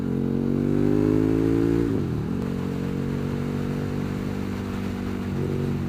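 A KTM Super Duke 1290 R motorcycle engine pulls hard under the rider, its loud, rising tone climbing, dipping at a gear change, then holding a steady drone as the bike rides on.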